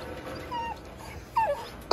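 American Bully puppies whimper in a few short, faint, high whines, with a sharper louder yelp at the very end.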